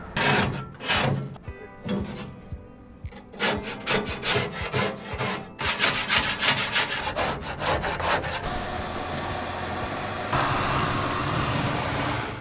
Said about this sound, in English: you can if you see enough gunked on stuff to scrape it away